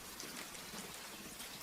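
Soft, steady rain falls in a dense, even hiss of fine drops, continuous and gentle with no other sounds.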